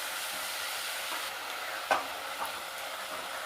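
Mushrooms and onions cooking together in a pan over a medium flame give a steady, close sizzle and hiss, with a sharp scrape or clatter from stirring near the middle and a softer knock shortly after.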